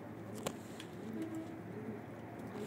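Pigeons coo softly in a loft, low murmuring calls repeating faintly over a steady background hum, with a brief flutter or knock near the start and no talking.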